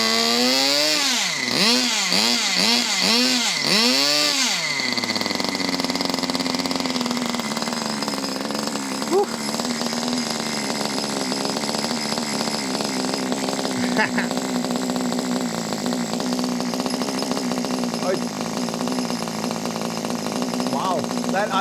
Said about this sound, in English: Wow, that idle's really low. Listen to that idle.